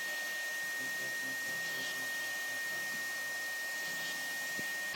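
A wet-and-dry vacuum cleaner runs steadily with a constant airy whoosh and motor drone, holding an even level throughout with no voices.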